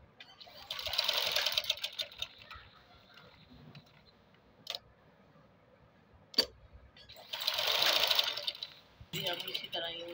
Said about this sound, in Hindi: बिल्कुल साथ साथ बुकरम के साथ साथ लगाते जाएंगे सिलाई